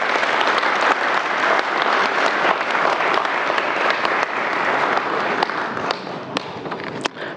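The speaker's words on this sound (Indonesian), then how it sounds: "sebelumnya saya minta aplaus dulu untuk Rosa" Audience applause for Rosa and Roni at a televised national dialogue event, dense sustained clapping from a large crowd filling the room, fading slightly toward the end.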